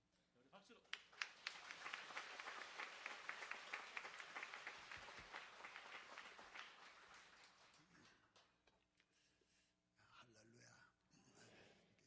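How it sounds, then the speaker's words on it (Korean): Church congregation applauding and cheering together after a pastor is introduced, a dense wash of clapping that swells for several seconds and then tapers into quieter murmuring and scattered voices. "우리 박수로."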